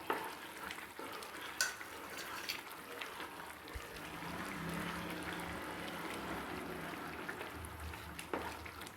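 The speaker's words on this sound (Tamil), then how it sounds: "2 பூண்டு பல் நம்ம நசுக்கி வச்சுருக்கோம், அதை இதில் சேர்த்துக்குவோம்." Crushed garlic stirred into a frying pan while making snake gourd kootu: a continuous moderate sizzle with scraping stir strokes and an occasional clink, low and close, no speech.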